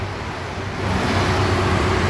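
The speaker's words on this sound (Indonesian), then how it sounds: "Ada bis Warga Baru, tujuan Pegaden Kampung Rambutan." A Warga Baru bus bound for Pegaden–Kampung Rambutan passes on the Jakarta–Cikampek toll road at KM 18. It makes a steady roadway rumble with a low engine drone that swells slightly as it goes by.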